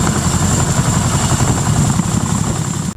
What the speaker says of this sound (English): The Boeing CH-47 Chinook is a versatile, twin-engine, tandem-rotor heavy-lift helicopter.